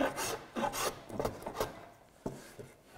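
A hand plane cuts across the end grain of a wooden board in short, rasping strokes, several quick passes in an uneven rhythm, close and fairly quiet.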